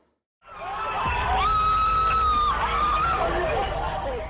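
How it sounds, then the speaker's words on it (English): A crowd of bystanders cheers and shouts together outdoors, a dense roar that starts abruptly and holds steady, topped by shrill, rising voices and whistle-like cries. "bystanders cheer the arrival of something heavenly descending from the sky."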